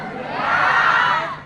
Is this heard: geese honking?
no